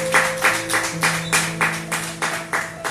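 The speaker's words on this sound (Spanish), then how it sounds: "Denle fuerte las palmas al Rey" Steady rhythmic hand clapping from a church congregation, about three claps per second, moderately loud and even, with a sustained musical tone underneath.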